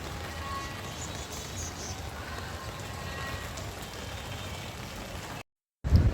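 Rain with wind falls on a rooftop garden of potted flowering plants, a steady dense patter and hiss that goes on evenly before a brief dropout and a loud rumble at the very end.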